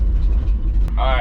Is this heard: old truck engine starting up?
yes